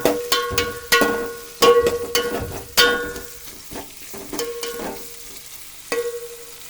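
Ginger and small onions fry for chicken curry, a spatula striking the pan in loud close clangs over a steady sizzle, several hits in an uneven rhythm.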